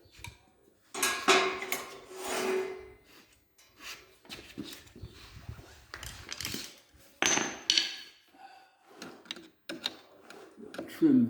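Metal trim tools and a small hammer prying parts out of a Mercury outboard, giving sporadic close scraping, clinking and tapping at irregular intervals, with quiet speech in between.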